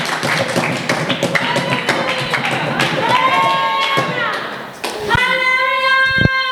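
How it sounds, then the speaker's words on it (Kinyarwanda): Church congregation clapping and cheering together, rapid irregular claps filling the space with shouts and sung or called voices rising over them, loud and sustained throughout. "Mukomere Imana yacu amashyi."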